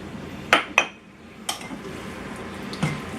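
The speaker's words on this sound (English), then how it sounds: "So I'm going to mix this around." Beef chunks are tossed with flour in a bowl for stew, a handful of separate clinks and scrapes of utensil against the bowl, close and sparse.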